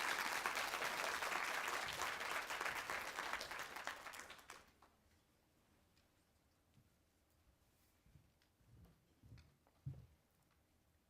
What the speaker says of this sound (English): Could you please give them a big round of applause?